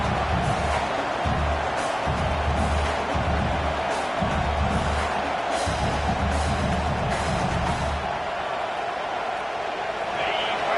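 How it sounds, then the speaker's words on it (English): Dense, steady roar of a large college football stadium crowd filling the whole stretch, with rising swells of cheering and low rumble throughout. "Listen to the crowd energy here in the early going."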